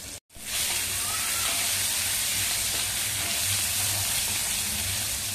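Green chili thecha hitting hot oil with cumin sizzles loudly and steadily after a brief silent gap at the start, a continuous bright frying hiss.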